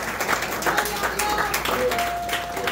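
Church congregation applauding during a Spanish-language sermon, a brief spell of scattered clapping from the crowd, with voices mixed in.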